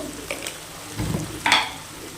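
Spiced paste for sidol, a traditional North Bengal dish, frying in oil in a pan, with soft crackle and stirring scrapes that swell near the middle and end with a brighter clatter.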